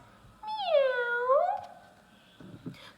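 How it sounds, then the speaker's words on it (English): A single clear cat meow, a long drawn-out falling then rising cry lasting about a second, fairly close, followed by quiet with faint background noise. "If you guessed our animal was a cat"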